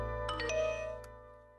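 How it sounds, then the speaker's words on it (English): A phone text-message notification chime, a short bright multi-tone ding-dong that rings out clearly and then decays over a low steady hum, with no talking over it. "Text from Amber."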